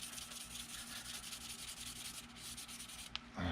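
Fine 400-grit sandpaper rubs by hand over the original fuel cap of a 1983 Suzuki GS1100E in a continuous soft, close scratching with no voices.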